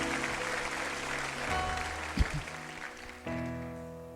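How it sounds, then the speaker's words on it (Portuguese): A church congregation applauds during a worship service, steady clapping that sits under sustained musical tones and a brief thump. "Dê uma salva de palmas a ele bem forte"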